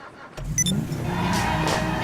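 A car door opens and shuts in the video game GTA 5, followed by a vehicle engine running steadily, loud and close.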